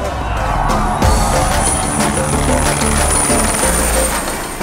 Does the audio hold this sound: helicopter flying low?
yes